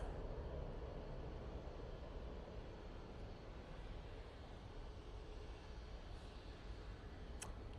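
A Ryanair airliner arrives at Manchester Airport, heard from a distance as a low, broad jet rumble that stays steady and fairly faint throughout, with no talk.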